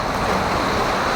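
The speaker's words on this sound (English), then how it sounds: "Because of the empty floaters, the water splash on them." Rushing water splashing over empty floats on a water park rapids ride at Atlantis Dubai, a dense, loud, continuous wash of noise.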